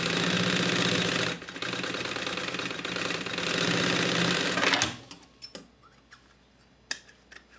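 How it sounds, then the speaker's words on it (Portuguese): A sewing machine runs a fast, rattling safety seam while assembling a panel lunchbox, continuous and close for about five seconds, then stops, leaving scattered small clicks and handling noises. "E uma costurinha de segurança,"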